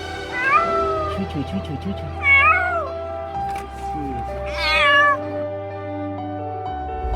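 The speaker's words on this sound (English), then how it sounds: "saving a drowning kitten after it fell into the sea" A rescued kitten, pulled from the sea after nearly drowning, gives several loud, rising meows in separate bursts over steady background noise and a low hum.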